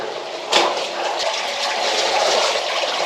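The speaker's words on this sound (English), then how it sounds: "There's a lot of water coming from this direction" Water rushing through an old tin mine adit on the Cornish coast, a steady broadband roar of flowing water echoing in the tunnel, with a brief louder splash near the start and no voices.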